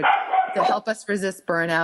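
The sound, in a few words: dog barking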